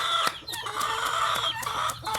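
Chickens on a farm cluck loudly and close by in a rapid series of sharp, repeated calls, with a crowing-like tone running through the flock.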